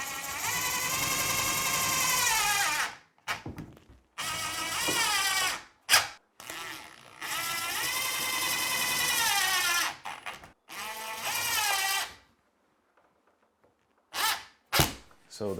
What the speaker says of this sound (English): Hold it down tight like that and screw it in.